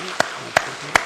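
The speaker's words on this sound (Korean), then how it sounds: "박수 한번 쳐줘요." Three sharp, evenly spaced claps ring out over a quiet room during a Korean church sermon, each a crisp isolated strike rather than a full crowd ovation.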